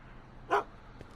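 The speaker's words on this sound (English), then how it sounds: "What are you doing with my dog?" A single short bark from Einstein, Doc Brown's dog, rings out once at moderate distance against a quiet room background.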